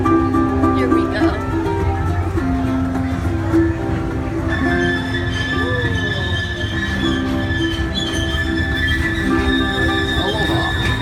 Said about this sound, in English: welcome aboard the Pineapple Express train tour